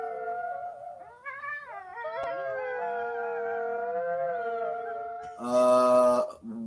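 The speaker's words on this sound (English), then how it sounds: "Something's pissing my dogs off." Dogs howl in long, wavering sustained tones for several seconds, followed by a louder, harsher burst near the end, with no talking over them.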